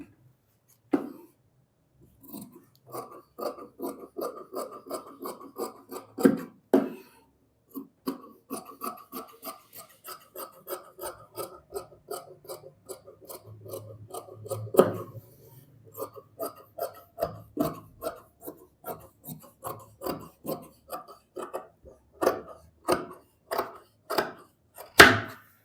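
Scissors snip through palazzo fabric in a long series of short, crisp cuts at a quick, fairly even rhythm, close and clear with brief pauses between runs.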